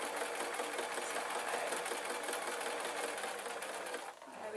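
A sewing machine hums steadily and evenly while stitching an adult Scottish kilt, running close and continuous before easing off at the very end.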